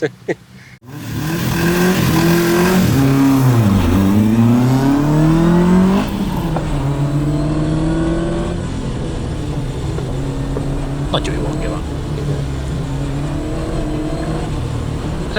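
An Opel Kadett GT/E or Manta B engine revs hard, rising and falling in pitch, then settles to a rough idle with scattered exhaust pops, loud and close with no talking.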